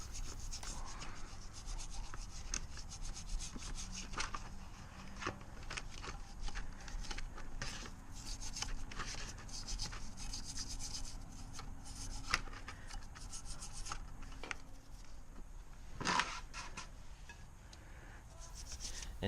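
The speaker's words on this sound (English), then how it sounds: "now we'll clean up the caliper where the pads are going to ride" Steady scrubbing scrapes at the pad contact faces of a rear brake caliper on a BMW X5 E70 during a workshop repair, a close, continuous rasping rub with brief louder strokes and no talking.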